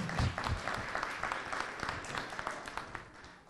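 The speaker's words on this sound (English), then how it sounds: "a big round of applause" An audience at an elementary school red carpet celebration claps after a student's name is called, a moderate burst of applause that thins toward the end.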